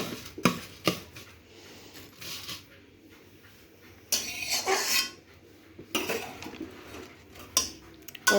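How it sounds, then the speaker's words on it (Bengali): Metal wok and utensils clatter on a stove top in a home kitchen: several sharp clanks and scrapes in irregular bursts, with quiet gaps between, close and fairly loud. "কড়াইটা আবার চাপিয়ে দিলাম"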